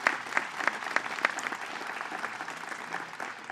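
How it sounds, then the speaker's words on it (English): Sustained applause from an audience at a Governor's announcement of a studio expansion in the Bronx, steady and fairly dense clapping throughout with no talk over it. "And let's give them a round of applause"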